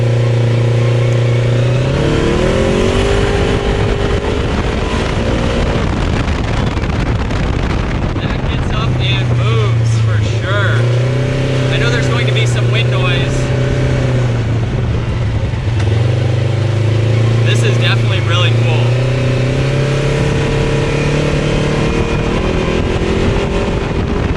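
A Polaris RZR RS1 side-by-side engine revs and accelerates on a test drive, its loud droning note climbing and falling in pitch across several throttle pushes, with heavy wind buffeting on the microphone throughout.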